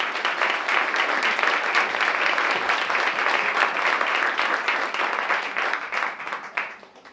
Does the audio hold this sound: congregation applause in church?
yes